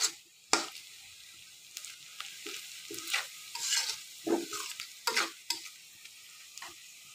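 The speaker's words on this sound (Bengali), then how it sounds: "স্বাদ মতো লবণ, দিয়ে ভালোভাবে আমি মিশিয়ে নিচ্ছি" A small river fish curry is stirred with salt in a pan, giving repeated scraping strokes in an uneven rhythm over a low, close sizzle.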